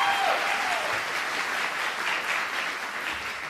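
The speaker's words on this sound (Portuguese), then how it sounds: "Vou pedir menos aplausos porque cultura não combina com palmas." A studio audience at a Brazilian late-night talk show applauds loudly, a dense wash of clapping that starts strong and slowly eases over a few seconds, with no speech.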